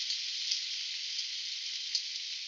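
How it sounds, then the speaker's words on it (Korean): Chopped onion and garlic sizzle steadily in hot olive oil in a pot for tomato sauce, a close, continuous crackling hiss with a few small pops and no voices. "이렇게 양파와 마늘 순으로 투하하면 치지직하고 소리가 날 건데요."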